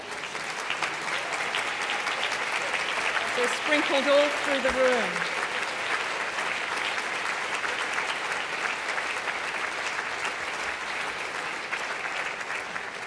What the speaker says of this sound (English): could all of the CEW members here this evening please stand up, and we'll give them all a big round of applause